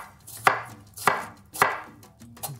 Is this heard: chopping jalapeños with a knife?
yes